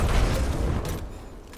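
A rocket blast against a barrier champion in Destiny 2, a loud low boom at the start that rumbles and slowly fades over about a second and a half.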